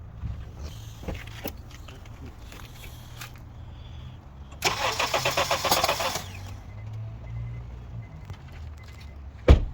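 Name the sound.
Honda CR-V engine cranking, camshaft position sensors disconnected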